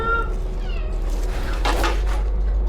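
A kitten meows loudly and close inside a hole, a few drawn-out cries over a steady low hum, with brief rustling nearby.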